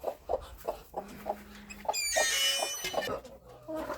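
Hens cluck in short repeated bursts on a small farm where geese, turkeys and a bantam are kept, fairly close, with a louder flurry of squawking midway and someone talking in between.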